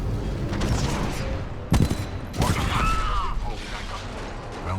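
Missile salvo fired in Titanfall 2, a loud burst of blasts and whooshing launches with sweeping tones, layered over constant game noise and mechanical clatter.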